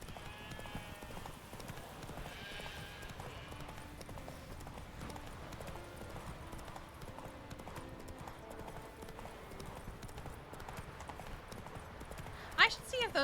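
Roach the horse's hooves clop steadily through Witcher 3 gameplay, a continuous rhythmic trot under game ambience and music, with a sharp brief noise near the end.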